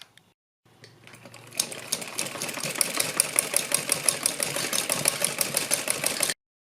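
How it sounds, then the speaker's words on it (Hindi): Sewing machine stitching a sleeve strip in place, a fast steady mechanical rattle that starts after a brief pause and runs continuously at close range, then cuts off abruptly. "इसके ऊपर सिलाई लगानी है"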